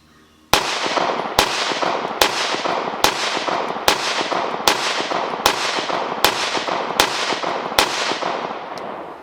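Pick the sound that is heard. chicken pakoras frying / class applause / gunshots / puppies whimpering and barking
gunshots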